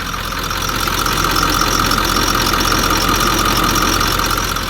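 A 2003 Ford F-250 Powerstroke 7.3L turbo diesel idles steadily and loudly up close, a continuous clattering rumble with no pauses and no talking over it.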